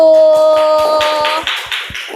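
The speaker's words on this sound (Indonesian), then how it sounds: "Tepuk tangan untuk kelompok 1" Classroom students clap for a group after its presentation, with a series of sharp, evenly spaced claps following a sustained tone that fades out. The clapping is close and fairly loud, and there is no talking.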